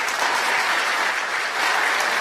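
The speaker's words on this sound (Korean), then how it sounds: "오늘 독립의 날을 선언해 주신 사장님께 더 큰 박수를 부탁드리겠습니다." Sustained applause from an audience at a company's 24th anniversary ceremony, a thick, even roar of many hands clapping that stays loud throughout with a brief dip near the end.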